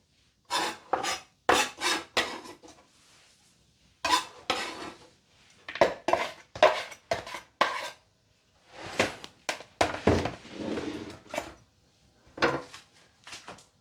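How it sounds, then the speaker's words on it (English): Chopped carrot pieces tumble and scrape into a bowl, giving a series of close, sharp clattering and rasping bursts in irregular clusters with short pauses between them. "now I'm gonna add my carrot into the bowl"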